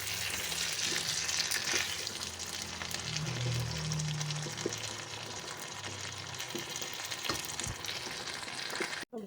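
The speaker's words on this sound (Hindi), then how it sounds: "बस हल्का सा हम चिकन के साथ इनको फ्राई कर लेंगे" Vegetables fry lightly with chicken for chicken jalfrezi, a dense continuous sizzle close up, with occasional soft scrapes of stirring and a brief clatter at the very end.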